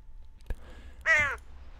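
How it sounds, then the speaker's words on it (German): A single raven caws once, loud and clear, from a rooftop in the Die drei ??? video game, preceded by a soft click and low ambient hum. "Oh, Raben hier oben drauf."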